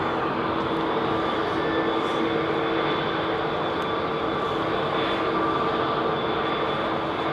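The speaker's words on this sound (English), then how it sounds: "I do like a 777" A Boeing 777 airliner flies over London Heathrow, producing a steady, broad engine roar that holds constant and fairly distant throughout.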